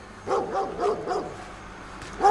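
A dog in Banská Štiavnica, Slovakia, barks in a quick run of four yappy barks, then pauses before one more bark, fairly close and moderately loud.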